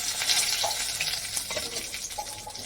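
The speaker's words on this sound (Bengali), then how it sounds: "অল্প তেলে হিং দিয়ে দিলাম নিরামিষ তো দিয়ে দিলাম দুইটা এলাচ দুটো শুকনো লঙ্কা দুটো তেজপাতা" Asafoetida, cardamom pods, dried red chillies and bay leaves hit a little hot oil for a vegetarian Bengali curry and sizzle steadily up close, with a few light clinks of a spoon stirring the pan.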